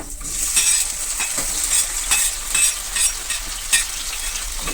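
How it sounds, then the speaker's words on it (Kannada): Chopped tomatoes are added to onions frying golden brown in a pan, making a bright, continuous sizzle close by, with soft stirring scrapes and a few louder bursts spaced through it, with no talking. "ಇವಾಗ ನಾನು ಕಟ್ ಮಾಡ್ಕೊಂಡಿರೋಂಥ 3 ಟೊಮೊಟೊನ ಹಾಕೋತಿದ್ದೀನಿ"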